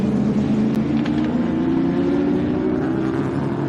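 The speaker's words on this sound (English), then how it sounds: "V8 rumble" V8 race car engine at a live circuit race, a steady low rumbling drone heard from a distance, continuous and even throughout.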